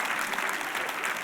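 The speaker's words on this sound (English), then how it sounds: "Somebody started to clap. Go ahead and clap." A church congregation claps together, a dense, even wash of many hands filling the room at close range, continuous with no talk over it.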